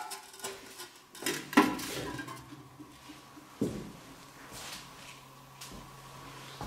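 Old pots and pans rattle and clank as they are handled in an abandoned hotel kitchen, a few scattered metallic knocks and scrapes over a quiet, low background hum, with no talking.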